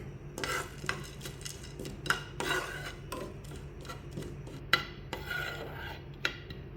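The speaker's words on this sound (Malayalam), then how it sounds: "ഒരു പാൻ അടുപ്പിലോട്ട് വെച്ചിട്ടുണ്ട് അതിലോട്ട് കുറച്ച് നെയ്യ് ഒഴിച്ചു കൊടുത്തിട്ടുണ്ട് നമുക്കിതിലോട്ട് ഇത് എടുത്തു വെച്ച് പംകിൻ സീഡ് ഇട്ട് കൊടുക്കാം" Pumpkin seeds rattle and scrape in a hot pan of ghee as a utensil stirs them, with irregular clinks and a soft sizzle underneath; no talking.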